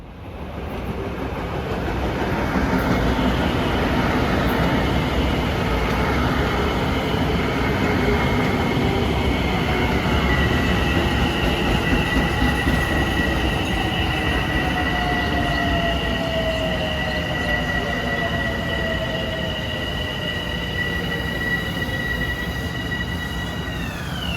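A commuter train passes through Mineola station on a triple-track line during the morning rush, wheels squealing and rails rumbling loudly and continuously, with a long sliding metallic screech as the cars roll by close at hand.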